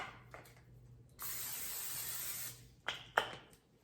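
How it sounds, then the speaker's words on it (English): A steady spray of butter-flavored cooking spray into a pan hisses for over a second, followed by a couple of short clicks and bumps against a quiet background. "we're going to start with spraying the pan with the butter flavored spray"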